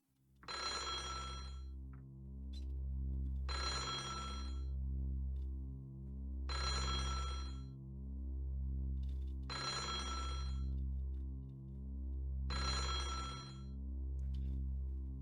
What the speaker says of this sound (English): A phone rang again.